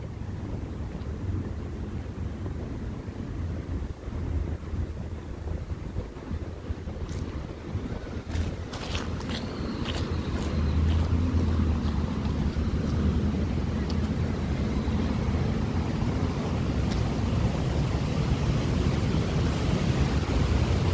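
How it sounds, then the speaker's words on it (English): Strong wind blows outdoors, a loud steady rumble battering the microphone with heavier gusts in the second half, joined by a few brief high metallic clinks. "Back in the wind, so get prepared for the wind."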